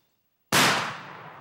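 A single loud shotgun-style gunshot fired at a turkey during a Michigan hunt, a sharp close blast after silence followed by a decaying echo through the woods.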